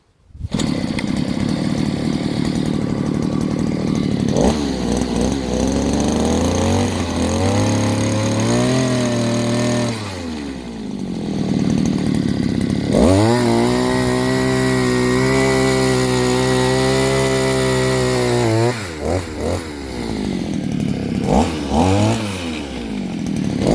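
Asaka 670 petrol earth auger running loud and close, engine revving up and bogging down in cycles as the bit drills into soil and catches on a root, pitch sagging under load then recovering.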